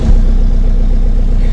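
A Skoda Fabia vRS 1.9 TDI diesel, just jump-started after a dead battery, idles with a loud, close, steady low rumble and faint clatter, with no speech over it.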